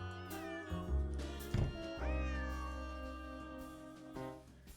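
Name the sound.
cat meowing in Nancy Drew video game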